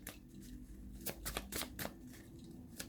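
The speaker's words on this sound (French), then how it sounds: "Donc je vais rajouter une carte avec l'oracle des anges de l'amour." Angel love oracle cards shuffled by hand, a quiet, close run of soft riffling and slapping card sounds in quick irregular bursts over a low background hum.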